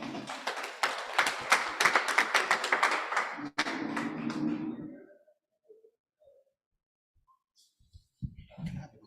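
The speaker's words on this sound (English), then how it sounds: "A round of applause for him." Applause at an annual general meeting of a cooperative society, as a supervisory committee chairman comes up to speak: a dense burst of clapping for about four seconds that fades to near silence, followed by faint scattered sounds and a brief voice.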